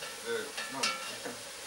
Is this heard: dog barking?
no